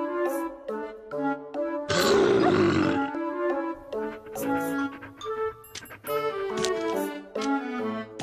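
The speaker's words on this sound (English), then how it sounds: "Roar to threaten those bad dogs away!" A cartoonish roar from a pet character in the Little Pet Doctor mobile game, one loud burst of about a second set among bright game music and chimes, meant to scare off bad dogs.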